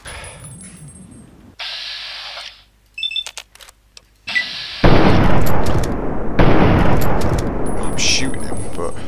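Gunfire in a modded Fallout 3 breaks out in bursts of sharp shots and blasts between quiet gaps, turning into a dense, loud barrage toward the end.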